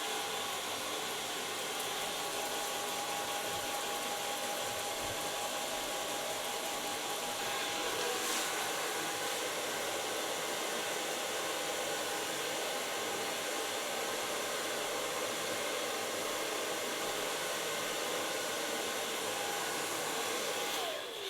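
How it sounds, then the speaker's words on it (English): A hair dryer blow-dries short hair with a continuous, even roaring whoosh that holds steady throughout, shifting only slightly as it is moved around, with no voices. "I start blow drying again with the use of my hands."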